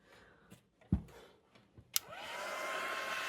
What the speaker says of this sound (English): So now I'm going to use my heating gun